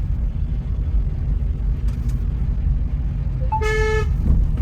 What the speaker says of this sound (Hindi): हमें हॉर्न का जरूर यूज़ करना है